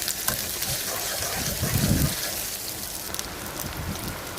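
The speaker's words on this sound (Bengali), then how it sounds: "জিরা বাটা দিব দিয়ে ভালো করে ভেজে নিব পেঁয়াজের সাথে" Cumin paste frying with onions in a pan during cooking of aqiqah meat curry, a steady broadband sizzle and crackle that swells briefly in the middle, continuous and moderately close with no talk.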